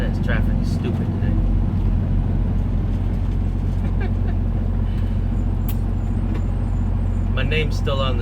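Steady low road traffic rumble heard from inside a truck cab, continuous engine and tyre drone with a brief air-brake-like hiss near the end, while a person talks over it.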